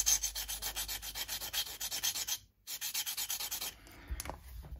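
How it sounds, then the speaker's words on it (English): Steady rhythmic rasping of a file flattening the undersides of grub screws on a Fender MIM Stratocaster, close and moderately loud. The even back-and-forth strokes pause once briefly and trail into softer handling at the end. "I'm going to very carefully flatten off the undersides or the bottom of these grub screws."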